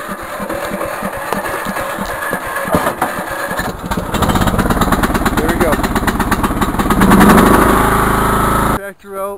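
A lawn tractor engine cranks briefly, then catches and roars into a loud, steady run close by for several seconds before cutting off abruptly near the end.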